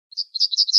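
A yellowhammer gives a rapid series of thin, high chirps, close and clean against silence, the notes running together in under a second.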